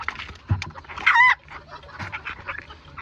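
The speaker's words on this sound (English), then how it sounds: "Back here I got my young pair of fawn silver duckling. These guys love feeding time." Old English Game bantam chickens in a barn cluck at feeding time, with scattered close clucks and one louder squawking call in the middle, plus light rustling between them.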